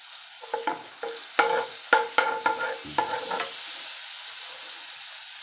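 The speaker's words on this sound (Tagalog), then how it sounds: "Wait lang natin na mag-melt to margarine bago tayo magsimulang mag-isa." Margarine melts in a pan with a soft steady sizzle, while a utensil scrapes and taps against it several times early on before the sizzle goes on alone.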